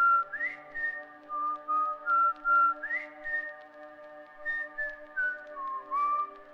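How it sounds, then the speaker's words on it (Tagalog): A lone person whistles a slow, wandering tune of sustained notes with gliding pitch changes, clean and close against silence, used as a sound effect in a Tagalog horror story narration; no talking. "Pasipol-sipol lang siya habang patuloy na naglalakad"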